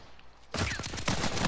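Dense burst of rapid gunfire in a multiplayer shooter video game, starting abruptly and continuing loud and close with overlapping shots through the end.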